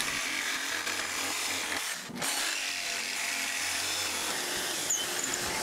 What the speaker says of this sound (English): I drilled a bunch of pocket holes and used pocket hole screws to assemble this frame.